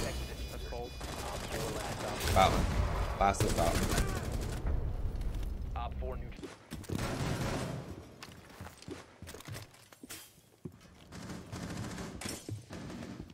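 Bursts of video game gunfire and rapid automatic fire crackle through a tense firefight, loud and dense at first, then thinning to scattered shots, with players talking over the action.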